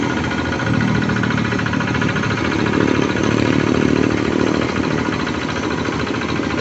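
Hand tractor engine running in a rice field, a loud steady mechanical drone with a rough chugging texture throughout, no voices.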